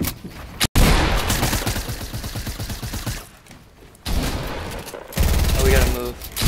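Rapid minigun fire in the Fortnite battle royale game rattles out in long, loud continuous bursts, with a brief break near the start and a quieter lull midway before the firing resumes.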